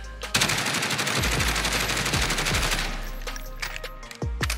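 Rapid automatic rifle fire from a weapon fitted with a Ranger foregrip in Call of Duty Warzone, a loud sustained burst of shots lasting about four seconds, then a couple of separate trailing shots.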